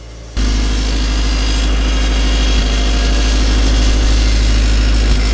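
A turbocharged Mazda Miata NB engine starts and then idles steadily, with a deep continuous exhaust drone and a faint metallic rattle from the exhaust beneath it, close and loud.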